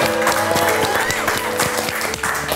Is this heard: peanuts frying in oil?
no